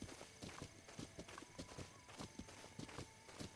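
Horse hooves clip-clop in Breath of the Wild, a quick, fairly even run of sharp hoofbeats close by, loud and clear with no talk over them.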